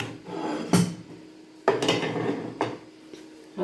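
Plates and dishes clattering as they are handled in a kitchen, a few sharp clinks and knocks spaced apart with softer rubbing and scraping between them.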